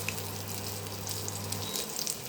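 Fish frying in a pan, a soft, steady hiss of oil with faint crackling spits, close but fairly quiet and continuous, with a low hum underneath.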